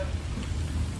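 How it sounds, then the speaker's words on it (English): Steady rain falls outdoors at Miami Beach, a dense, even hiss of drops filling the short moment with no distinct voices. "As you can see, it's kind of raining around me."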